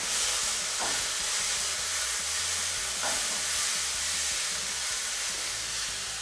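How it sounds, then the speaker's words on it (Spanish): Rice with vegetables sizzles and fries in a pan while a utensil stirs it, a continuous hiss with a couple of brief scraping strokes, close and without talk. "Y mezclamos."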